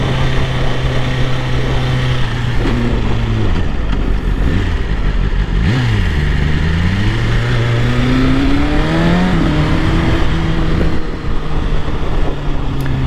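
A 2024 BMW S1000RR superbike engine screams under hard riding, revving up through gears with quick drops at each shift, then rising again, loud and close over constant wind rush.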